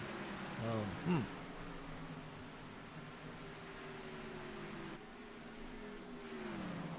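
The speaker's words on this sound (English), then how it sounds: "cars as they roar down into that tri-oval part that I call it" Several race cars roar past in an Xfinity Series racing game, engine drones sliding down in pitch as they sweep into the tri-oval, steady and moderately loud with a brief rising whine early on.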